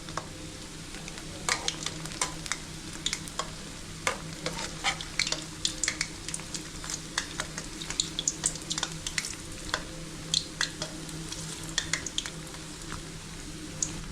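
Urad dal medu vada deep-frying in hot oil, a steady close sizzle and bubbling with repeated sharp crackles and pops throughout, occasional stirring sounds, no talking.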